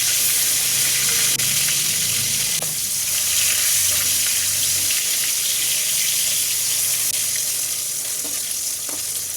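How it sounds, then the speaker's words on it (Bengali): Salted koi fish frying in hot oil in a kadai wok. A loud, continuous sizzle and spatter holds steady throughout, with no talking. "কড়াইতে তেল দিয়ে তেল গরম করে ওর মধ্যে নুন দিয়ে মাছগুলোকে আমি ভেজে নেবো এক এক করে"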